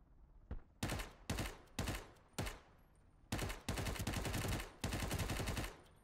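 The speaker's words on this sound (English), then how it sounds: "Someone's shooting at me." Video game gunfire crackles in repeated bursts of rapid automatic shots, short volleys first, then longer sustained strings, loud and close, with no talk.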